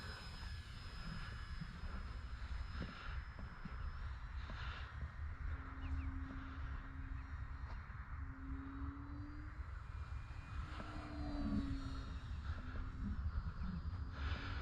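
A Durafly Ugly Stick V2 RC plane flies over a cow pasture field on a cold Florida day, its faint electric motor whine drifting and shifting pitch above a constant wind-like rumble.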